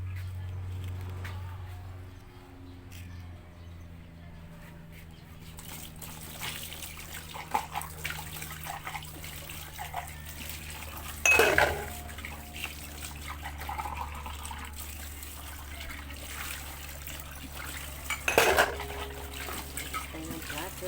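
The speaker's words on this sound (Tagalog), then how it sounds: "Maghuhugas tayo ng plato." Plates being washed under a running tap, a soft trickle of water with occasional clinks and sharper splashes of dishes, fairly quiet and close, with a low steady hum underneath.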